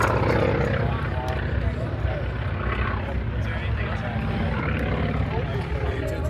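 A plane engine runs at the Oshkosh airshow as a steady, loud droning roar that fills the whole stretch, with people talking over it.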